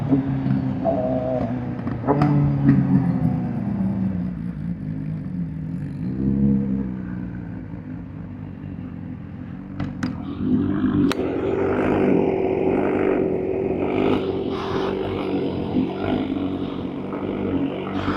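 A Honda CBR1000RR-R Fireblade SP sport motorcycle's engine whines high-pitched and loud during a test ride, rising and falling with throttle changes alongside steady wind rush.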